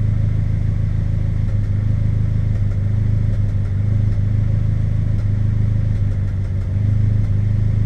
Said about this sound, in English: Yeah, it's really misfiring.